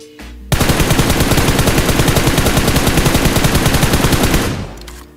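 Sustained automatic gunfire from PUBG Mobile, a rapid even burst of shots lasting about four seconds after a brief quiet start, loud and close, then cutting off.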